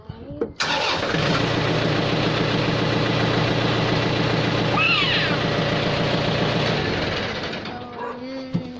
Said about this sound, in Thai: แล้วเราก็ติดเครื่องเลย